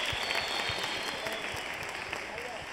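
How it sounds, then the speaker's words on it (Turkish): A studio audience on a TV pop talent show gives an orchestra a big round of applause, steady dense clapping with individual claps standing out. "Bu güzel orkestramıza, Onur hocamızın orkestrasına çok kocaman bir alkış istiyorum."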